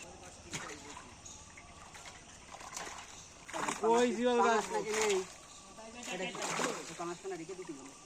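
Fishing net hauled through a small, partly drained pond during a fish harvest, giving steady splashing and sloshing water with bursts of heavier churning, while people talk nearby and a motor hums faintly.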